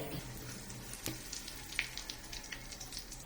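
Soya chunks deep-frying in hot oil give a steady low bubbling sizzle with faint crackles and a few sharp pops, heard close and alone without any voices.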